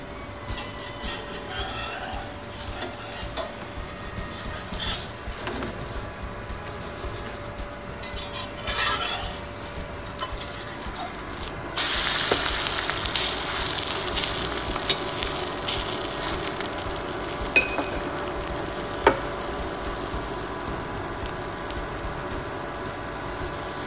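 Okonomiyaki with prawns cooking slowly in a pan, a soft steady sizzle with occasional faint clinks, rising to a louder, hissing fry about halfway through.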